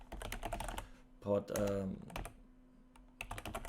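Quick clicking keystrokes on a computer keyboard come in bursts at the start and end, with a voice speaking over the middle; the typing is close and moderately loud.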